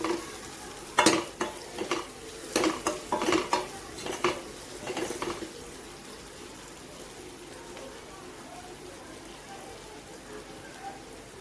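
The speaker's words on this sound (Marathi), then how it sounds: "सर्व मसाले व्यवस्थित मिक्स करून घेऊया" Turmeric, red chili and coriander powders stirred in hot oil in a pan for dal fry: quick scraping and clinking of a spoon against metal over a faint sizzle, busy for about five seconds and then fading to a quiet hiss.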